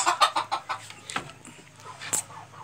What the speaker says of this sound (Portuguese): Meu galinheirinho Cheio de galinha